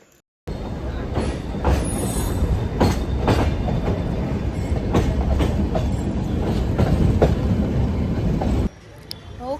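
The Ooty toy train rolls along its rails with a steady loud rumble, rhythmic clickety-clack beats and squealing wheels, then cuts off abruptly near the end.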